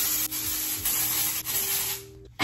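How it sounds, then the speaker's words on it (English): Texture spray hisses from a can onto short hair before curling, in several short close bursts separated by brief pauses, with no talk. "So I'm gonna spray this all over."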